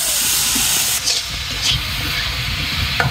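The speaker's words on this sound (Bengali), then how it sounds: "মাছ আর সবজি একসাথে কষায় নিতেছে।" Fish and vegetables cooking together in a pan give a steady, loud hiss and sizzle throughout, with a few brief sharper spurts rising above the constant frying noise.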